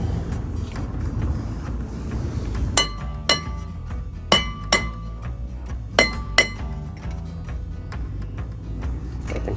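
Several sharp metallic hammer blows strike a stuck brake rotor on a 2016 Toyota RAV4 XLE at irregular intervals, ringing out clearly over a low rumbling background.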